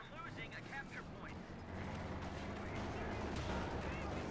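An M1 anti-tank gun fires on a Panzer 4 in the Company of Heroes 2 video game, heard as faint, distant booming shots amid a dense battlefield din of scattered gunfire and rumble.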